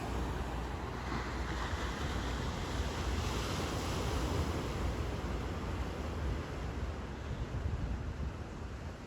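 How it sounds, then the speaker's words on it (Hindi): Sea waves rolling in and breaking on the shore in Kerala, a continuous roaring wash of surf mixed with wind buffeting the microphone, steady and loud with no talking. "लेकिन लहरें देखो आप।"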